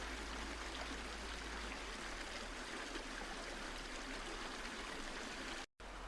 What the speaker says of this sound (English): There's the rest of it on the other side of the path, overhanging the river, the stream. It's quite a comforting sound.